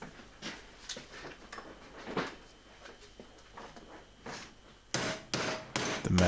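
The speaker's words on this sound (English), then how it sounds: "Bent it down anyway and hammered the edge in." Irregular metallic taps and knocks of a hammer bending over a sheet metal edge on a Talbot Express camper van battery tray, moderately close, with quiet pauses between strikes and a louder cluster of hits near the end.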